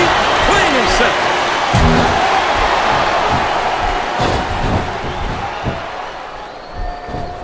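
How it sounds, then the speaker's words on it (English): An arena crowd in the WWE Smackdown vs RAW 2007 wrestling game roars steadily throughout, a dense continuous cheer punctuated by ring slams and thuds from a Torrie Wilson vs Melina ultimate submission match. "this crowd can't get enough of it"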